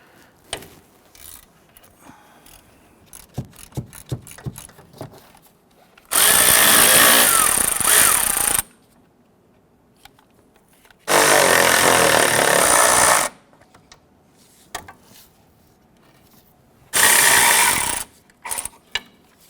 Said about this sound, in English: Using a 15mm deep socket, we're going to access the 3 nuts along the top of our strut assembly.